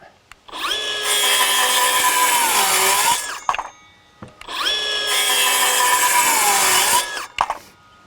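A Milwaukee M12 FUEL Gen II 5-3/8" circular saw whines up and cuts through wood twice at full depth, each cut a sustained loud buzzing pitch that slowly drops under load, then spins down.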